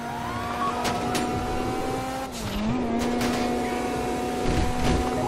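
A car races along at speed with a sustained engine drone, tires squealing briefly through a turn before the motor pulls on steadily.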